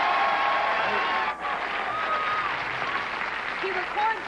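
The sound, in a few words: studio audience applause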